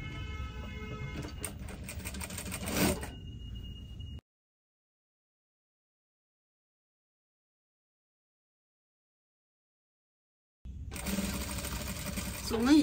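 A sewing machine stitching a garment's lining seam at the shoulder in short, close bursts of rapid mechanical whirring, with a long silent gap between runs and faint handling noise.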